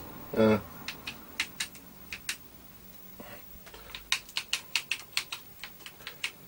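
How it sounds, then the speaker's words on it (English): Keys pressed one after another on an old BBC Micro computer keyboard, a close string of sharp clicks in an irregular rhythm with a brief pause midway and one short burst of voice at the start. "Let's try a few keys and see whether we get any."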